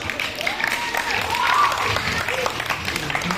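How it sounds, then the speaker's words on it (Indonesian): Crowd applause rises under ongoing talk at a live Balinese bondres comedy performance, a moderate wash of claps with voices and a faint melodic tone over it. "Tepuk tangan. Aplaus."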